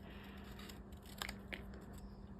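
Scissors cut paper around a Halloween card figure in a few quiet, crisp snips over a faint background hum, close and soft.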